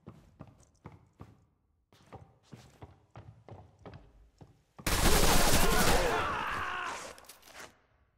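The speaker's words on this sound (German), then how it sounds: "Export, ganzes Magazin leer gemacht und dann fällt der erst um." Sustained burst of video game gunfire emptying a full magazine, a dense loud roar lasting about three seconds then tapering off, following a stretch of sparse quieter thuds and clicks.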